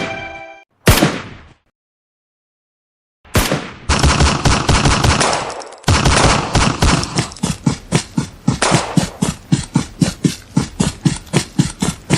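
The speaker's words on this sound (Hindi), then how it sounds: "यहाँ पटाखे नहीं गोलियां चल रही है।" Gunfire on a battlefield: a loud single shot and a pause, then close, sustained automatic bursts that settle into a rapid run of sharp, evenly spaced shots.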